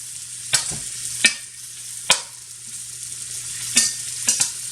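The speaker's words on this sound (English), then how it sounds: "Just brown it on all sides." Floured lamb pieces brown in a pot over medium heat for a spicy Indian stew, a soft sizzle under several sharp, spaced clacks of a utensil turning the meat, with a low steady hum behind.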